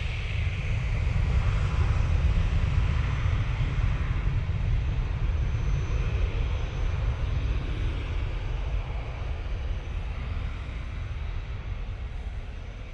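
An EasyJet airliner bound for Copenhagen roars down the runway on its takeoff roll at Manchester Airport, a loud continuous jet rumble that holds steady and slowly eases toward the end, with no one talking.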